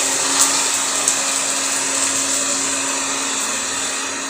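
A household water pump motor runs to fill a tank, giving a loud, steady, continuous hum with a constant tone throughout and no voices.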